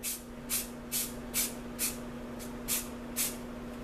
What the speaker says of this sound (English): It's spraying good today, and I'm really happy with that.